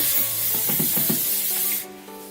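A broadband hissing burst of hairspray from an aerosol can close by, with a few quick pulses in the middle, before stopping and leaving quiet room tone.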